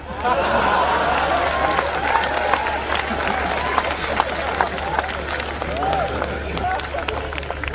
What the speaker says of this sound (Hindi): और तालियां तो आपकी अब उठेंगी